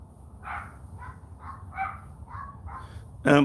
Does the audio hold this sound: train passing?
no